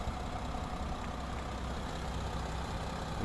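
A 2019 VW Touareg 3.0 TDI diesel, 210 kW, idling steadily, a continuous low, even engine rumble with no revving and no voices.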